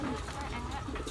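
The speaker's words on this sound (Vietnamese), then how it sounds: "nuôi kèm với lại chim bồ câu" Pigeons coo softly on a farm where they are kept alongside goats, in a noisy outdoor setting with a faint voice mixed in.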